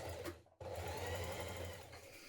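A sewing machine runs in two quick bursts, stitching the short cuff edges of a denim jean jacket at a steady whirring rattle, close and fairly quiet with a brief pause between runs.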